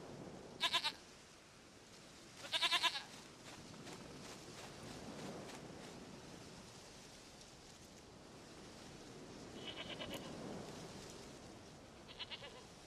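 Goats bleat several times in the video game Witcher 3, in short nasal bursts near the start and again toward the end, over a soft ambient outdoor background of wind and distant surf-like noise.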